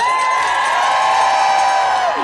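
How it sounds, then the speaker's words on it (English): Outdoor protest crowd at the Arkansas State Capitol cheering and whooping, a loud sustained roar of many voices that fades as it ends. "Give yourselves a big cheer."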